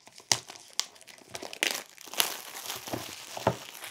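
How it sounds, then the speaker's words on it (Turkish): An OPPO A73 phone box is opened, its packaging crinkling and tearing in sharp, irregular bursts of crumpling, close and fairly loud with short pauses between. "Evet kutuyu açtık."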